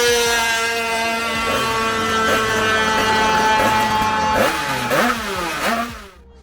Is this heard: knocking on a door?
no